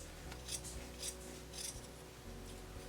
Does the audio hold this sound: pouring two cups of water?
no